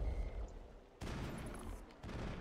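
Gunfire in a Mass Effect firefight, with bursts of shots and impacts arriving in two distinct waves, fairly close and moderately loud over a low rumbling background.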